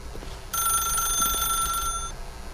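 Telephone in the video game The Stanley Parable rings with a steady electronic bell tone for about a second and a half, loud and alone over a low background hum, then stops.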